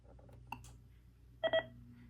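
A beep tone from the page button on an intercom phone system, two short electronic chirps close together, followed by a steady low hum.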